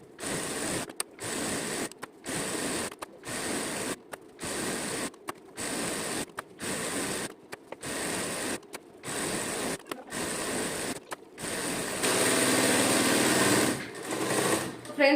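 A sewing machine stitches a decorative design along the hem of a salwar in rapid whirring bursts separated by brief pauses, ending with a steadier, denser run of machine noise.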